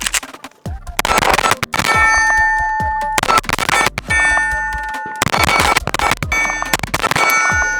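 A Cardinal Arms G2i pistol with a ported island barrel fires rapid strings of shots at steel targets. Each sharp report is followed by a bright, ringing clang that hangs in the air, in several quick bursts.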